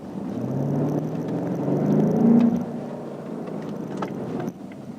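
A BMW M5 sedan under full-throttle acceleration gives a steady, loud engine rumble and rising drone that swells toward the middle, then eases and drops off near the end, heard alone without talk.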